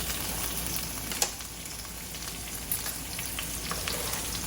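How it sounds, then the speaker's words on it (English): Chopped spinach, basil, mint and garlic hit hot oil and fry with a steady, dense crackling sizzle that stays close and even throughout, with no talking. "the oil is hot. I'm going to add my chopped spinach, my chopped basil, mint, garlic"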